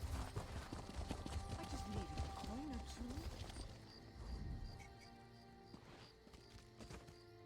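Horse hooves clip-clopping in a video game near an in-game stable, a steady walking rhythm under a game soundtrack that thins out and fades in the second half.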